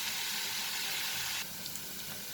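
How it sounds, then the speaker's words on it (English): Onions sizzle and crackle steadily in a hot pan, a continuous bright hiss that drops slightly softer partway through. "we will fry the onion for a minute."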